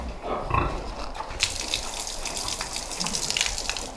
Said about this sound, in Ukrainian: Оце потек, як набираємо повний, починає текти сюди, одразу виключаємо.